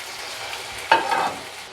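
A spatula stirs vegetable curry with fried peanuts in a pan, one brief close scrape rising over a soft, continuous sizzle, with no voices.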